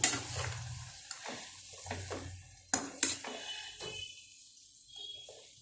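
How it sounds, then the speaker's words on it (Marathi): Soaked poha being stirred in a pan with cutlery scraping and clinking against the metal, a few sharp knocks and a faint sizzle, close and fairly quiet with no talk. "इथे मी पोहे घातलेत तर आपण ढवळून घेऊ"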